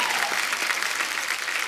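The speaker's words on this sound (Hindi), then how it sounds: "इनके लिए एक बार जोरदार तालियां हो जाएं।" Audience applause for actor Vicky Kaushal on a Hindi comedy show stage, a dense, steady clapping that fills the whole stretch at even loudness with no voices on top.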